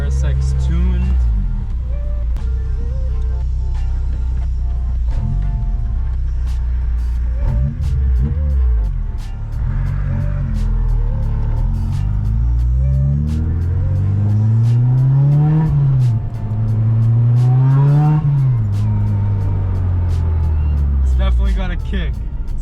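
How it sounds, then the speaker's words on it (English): A tuned Acura RSX drives and accelerates, its engine note climbing and falling through several rising revs and shifts, loud and close from inside the car, with people talking over the droning motor. "first drive with the RSX tuned"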